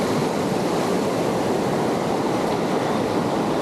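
White water river rushing steadily, a dense constant roar close by with no pauses, heard alone without voices.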